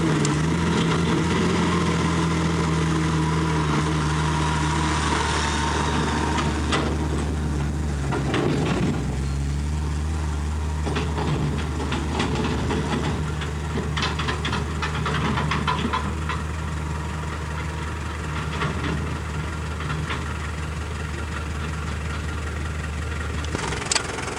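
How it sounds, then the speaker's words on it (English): A tractor engine runs steadily on a farm in St Thomas, Jamaica, in 1979, giving a continuous low, droning hum at close range with a few faint knocks and rattles over it. "turn around and get a tractor coming there"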